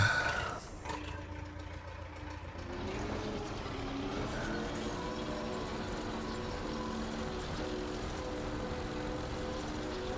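A tractor engine in Farming Simulator 25 drones steadily with a low, even hum, preceded by a brief shift in pitch at the start, and holds at a constant level throughout.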